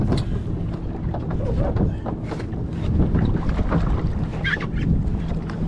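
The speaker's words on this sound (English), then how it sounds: "when it's just the water, the waves, the wind, and no talking" Wind buffeting the microphone and waves slapping against a sailing dinghy, a continuous rough rushing noise with irregular splashes and no talking.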